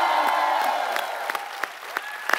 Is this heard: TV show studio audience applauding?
yes